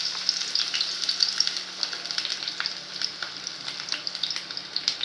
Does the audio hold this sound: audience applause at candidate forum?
no